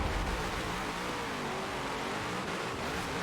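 A race car launches off the line in a Forza Horizon 4 quarter-mile drag race, its engine a dense, loud roar that climbs steadily in pitch with no talk over it.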